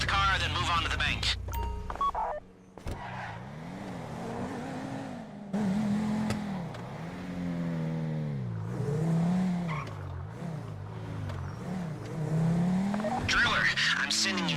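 Car driving in GTA V Online during a bank heist, with an engine drone that rises and falls in repeated revving waves and occasional tire squeal, running steadily under talk throughout.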